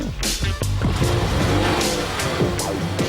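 Ferrari 308 GTB sports car from 1975 driving with a loud, continuous engine note, revving and shifting pitch throughout at close range, with a faint tire-squeal edge.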